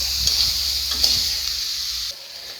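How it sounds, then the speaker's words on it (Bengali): Onion frying in a pan with cauliflower, potatoes and shol fish, a steady hissing sizzle close up with a few soft stirring knocks, ending in a brief quieter stretch. "এটা এখন আমি সুন্দর করে ভেজে নেব সবগুলান একটু লাল লাল করে ভেজে নেব পেঁয়াজটাও একটু লাল করে ভেজে নেব"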